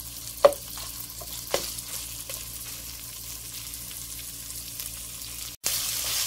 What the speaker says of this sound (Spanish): Seguimos escuchando el traste.